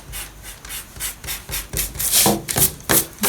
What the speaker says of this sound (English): So I'll just erase this excess